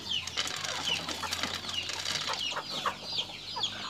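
Four young pigeon chicks in a backyard farm pen make a busy stretch of chirps, peeps and wing flutters at close range, with no speech.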